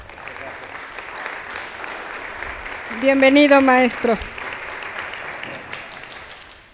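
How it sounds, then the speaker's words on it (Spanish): A seminar audience in Mexico applauds to welcome a visiting constitutional law scholar, a steady broadband clapping wash running throughout while a voice briefly speaks a greeting over it in the middle. "lo recibimos con un caluroso aplauso"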